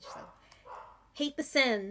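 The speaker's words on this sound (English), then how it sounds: "I'm sorry that my dog can't shut up" A dog barks several times nearby, with loud, quick barks at the end, while a person talks over the opening moments.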